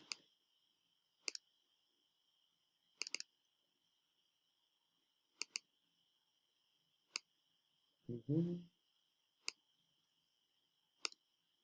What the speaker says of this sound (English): So by clicking individually, I can say part 1.